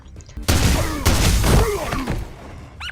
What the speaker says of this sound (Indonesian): dihentikan oleh Robert dengan beberapa tembakan